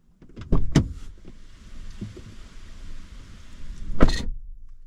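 A 2025 Toyota Tacoma pickup door thuds shut twice, a sharp near slam early and another a few seconds later, with mechanical rattling and hum between.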